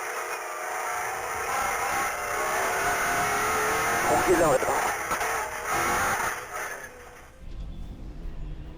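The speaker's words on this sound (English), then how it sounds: "we drive along now with Spanish driver Alvarez" Rally car driven by a Spanish driver in the Morocco Desert Challenge 2019, its engine droning steadily with rising revs and rough surface noise, loud and close, partly under a commentator's voice before dropping off near the end.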